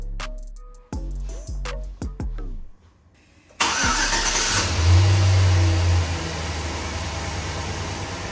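A car engine cranks over in several short bursts, pauses, then catches and fires up into a loud, steady idle with a brief rev, heard close and with no talking, on a car just fitted with a new K&N air filter.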